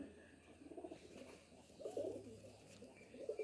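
A Madras high-flying pigeon cooing softly, low throaty coos in a couple of short bursts, near but quiet, with a faint low hum beneath.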